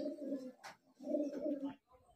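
Highflyer Giribaz pigeons cooing up close, two long throaty phrases of rolling coos separated by a short pause, with a brief scuffle between them and quiet afterward.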